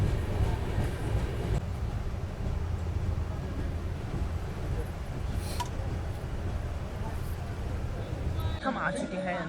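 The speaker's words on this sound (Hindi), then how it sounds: "सामने आप वो जो ट्रेन को जाते हुए देख रहे हैं वो है new Delhi SBC Bengaluru Karnataka express." The New Delhi–Bengaluru Karnataka Express passes through Manmad Junction station with a steady rolling rumble and wheel clatter at close range, while people talk nearby.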